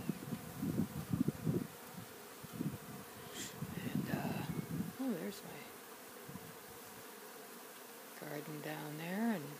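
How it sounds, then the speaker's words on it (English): A swarm of Africanized bees buzzes faintly in the Caribbean outdoors, a thin, fluctuating hum of many wings with single bees passing closer now and then. "A lot of bees."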